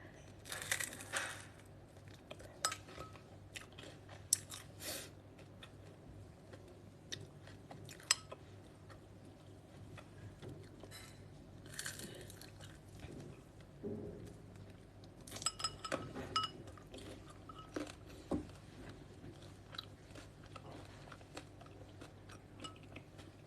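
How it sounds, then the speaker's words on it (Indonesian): Crunchy bites of cireng, a fried tapioca snack, recorded close up as ASMR. Irregular crisp crunches and chewing repeat through the recording with occasional clinks of cutlery or dishes and no talking. "Ini adalah salah satu makanan yang kayaknya bagus deh buat di ASMR. Karena kayak ada kriuk-kriuknya tapi ada dalamnya kan"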